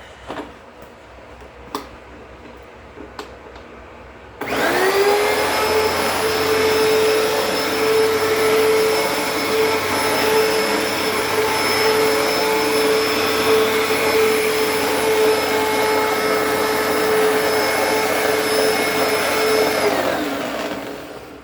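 An old vacuum cleaner with a rattly, worn brush roll switches on after a few faint knocks and runs steadily and loudly for about sixteen seconds, holding a constant whine with a rough rattling undertone before powering down.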